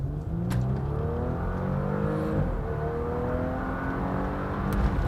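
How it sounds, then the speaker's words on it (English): A 2019 Porsche Panamera 4 E-Hybrid in sport mode pulls away as its engine kicks on, a deep rising engine drone heard from inside the cabin, steady and fairly loud with the pitch climbing through the gears. "the engine kicked on, and now we have the go"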